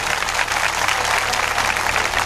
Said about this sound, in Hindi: एक बार हमारी सभी देवियों के लिए जोरदार तालियों से अभिवादन।